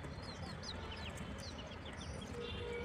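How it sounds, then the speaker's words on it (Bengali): Hens on a rooftop garden cluck faintly against a hissy background, with short repeated high calls scattered across a brief stretch. "এই যে এই মুরগিটা, এই যে মুরগিটা, যে পাশেরটা"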